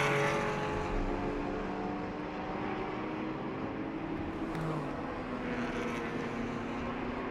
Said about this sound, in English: There's some more Porsche battling going on.